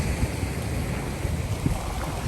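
Rough sea on the Mindoro coast in light rain, with a steady broadband wash of crashing waves and gusting wind buffeting the microphone, continuous and close without speech.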